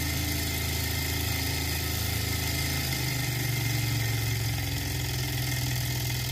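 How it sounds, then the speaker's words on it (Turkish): A small Stirling engine drives a generator lighting an LED lamp, running with a steady, faint mechanical hum and fine rhythmic vibration, unchanging throughout with no speech. "Led lambayı takınca motor devri biraz düşüyor arkadaşlar."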